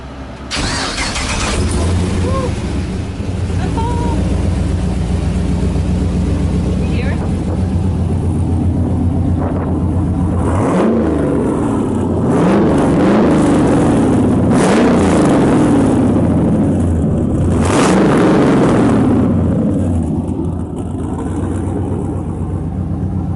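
Original car from the Fast & Furious movies starting up, the engine cranking and catching, then idling loudly with several sharp revs and throttle blips over about twenty seconds, close by, with people talking.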